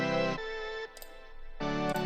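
An 80s-style synth with chorus, delay and EQ plays two short bright tones separated by a faint echoing tail, alone and moderately loud.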